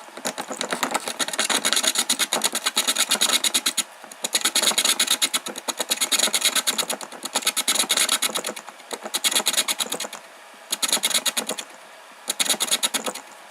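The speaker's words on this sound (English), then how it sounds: "Listen, it's almost like the blades are sometimes catching and other times not." A shredder driven by a car wiper motor chews through chunks of 3D printed plastic, giving loud rasping, grinding bursts that start and stop in uneven spells, with brief pauses where the blades fail to catch.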